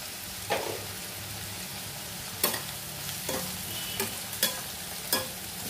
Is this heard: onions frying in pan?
yes